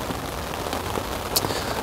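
Heavy rain patters steadily on a surface at a lakeside carp fishing camp, a close, constant hiss of drops with no break and no voices.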